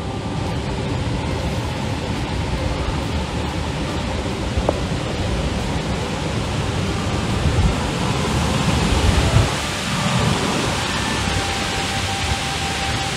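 Water rushes through a gorge below a mountain trail near Jewel Lake, making a constant broadband roar that fills the whole stretch. A faint knock sounds partway through, and nobody speaks.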